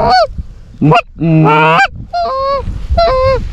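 Loud, close honking goose calls during a bird hunt, sounding as several drawn-out harmonic honks in separate bursts with brief gaps between them.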